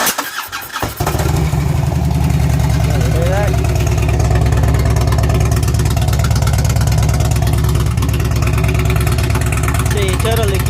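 A Harley-Davidson motorcycle fitted with a lollipop exhaust cranks over and fires up, then settles into a loud, loping, rapidly pulsing idle that runs steadily close by, with a voice speaking briefly over it.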